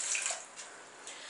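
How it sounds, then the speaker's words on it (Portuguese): Water is poured into a cooking pan, a soft, rushing splash that trails off quickly. "nós vamos colocar em uma panela, nós vamos colocar 250 ml de água"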